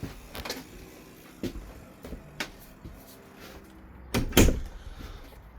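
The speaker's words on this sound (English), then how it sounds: "And then close the door right there." Door of a Hemenway Shadow Cruiser camper trailer being shut, heard as a few sharp knocks and thumps with a louder latching clunk near the end, close by in a quiet interior.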